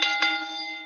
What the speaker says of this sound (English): Ring that bell for me